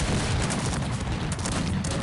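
Cannons fire in a Cossacks 3 multiplayer battle, a dense, loud, continuous rumble of overlapping blasts and battle noise with no clear gaps.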